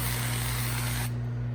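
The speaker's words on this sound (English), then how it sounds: "I'm just gonna spray some of this avocado oil into a pan." Avocado oil sprayed into a pan in a home kitchen, a brief hissing spray over steady background hum, cutting off partway through.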